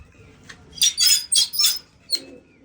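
Pigeons in a loft with nest boxes, a few close bursts of soft cooing and wing flutter over a quiet background.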